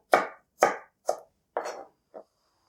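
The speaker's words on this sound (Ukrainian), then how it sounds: "І ось цю товсту частину ось так розрізаю." A knife cuts thick Napa cabbage pieces into thin strips on a wooden board, five distinct crisp chops close by in a loose rhythm, the last one softer, with silence between and no talk.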